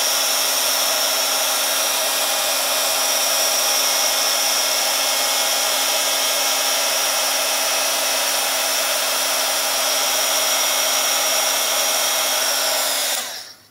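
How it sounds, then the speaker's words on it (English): Loud, steady whir of a handheld heat tool blowing continuously to melt embossing ink on a card, close and uninterrupted, cutting off at the end. "And then grab your heat tool. And we're going to heat it until it's shiny."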